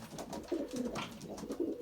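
Young pigeon cooing while having a leg band fitted, several soft low coos repeating in a loose rhythm, close and moderately loud, no talking.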